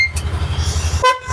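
Horn of a Lifan vehicle, a short, loud, steady honk that cuts off abruptly, with a low engine rumble pulsing underneath until the horn sounds.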